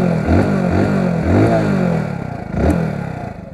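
A Hero Splendor BS6 motorcycle idles close by in a steady low putter, with a few light blips of the throttle rising and falling over the engine's even running.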